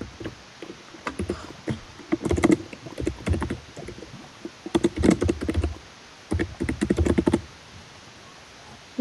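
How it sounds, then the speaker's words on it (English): Loud typing on a computer keyboard indoors, several rapid bursts of clattering keystrokes separated by short pauses, close and prominent. "Your typing is so loud."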